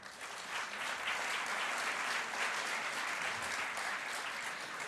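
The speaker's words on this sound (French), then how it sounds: "merci de les applaudir" Sustained applause from an audience at a round-table discussion on bringing digital technology into French schools, a dense, steady wash of clapping that holds at even loudness for the full stretch with no voices over it.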